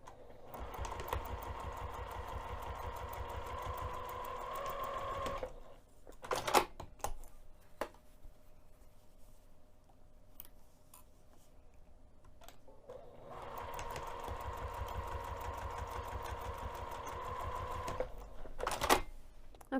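A sewing machine stitches darts in fabric in two bursts of rapid, even needle clatter, separated by a quiet stretch with a few clicks and handling sounds, then starts up again; no one talks.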